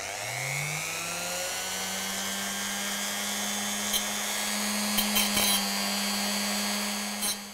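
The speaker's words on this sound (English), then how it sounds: "there's always time for a Dremel, isn't there?" A Dremel rotary tool cuts down small model railway figures. The motor whines up to speed in the first second, then holds a steady high-pitched drone, with a few brief scraping bites partway through and no speech.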